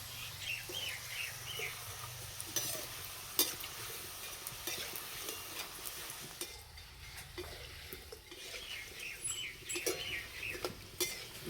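Thin strands of jhuri besan batter frying gently in hot oil, a soft, steady bubbling sizzle with occasional light clinks of a utensil, quiet and close.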